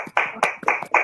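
A few people clap for a presenter at an online academic session, with four distinct slightly uneven bursts of close, sharp clapping over about a second.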